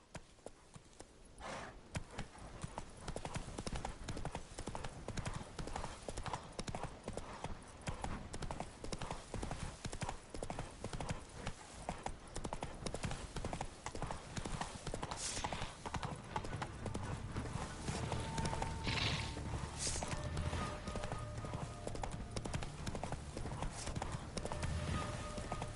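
A horse gallops in The Witcher 3, its hoofbeats a fast, unbroken drumming that stays loud and close for the whole stretch, with occasional game effects layered in.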